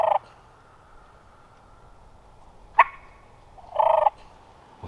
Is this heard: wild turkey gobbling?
yes